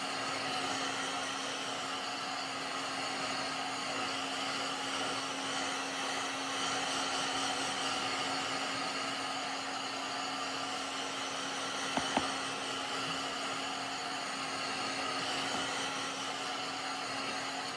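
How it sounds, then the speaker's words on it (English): A heat gun dries paint on a Halloween tombstone decoration, blowing with a steady, moderately quiet whooshing hum that runs without a break and has a faint click partway through. "So just make sure you're moving your heat gun."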